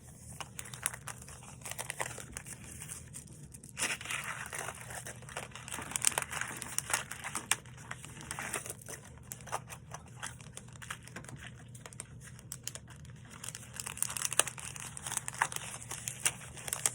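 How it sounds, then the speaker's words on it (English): A plastic acetate bag crinkles and rustles as it is handled and slid over a scrapbook card, close and soft, with irregular crackling bursts throughout. "I'm just gonna use one of these acetate bags"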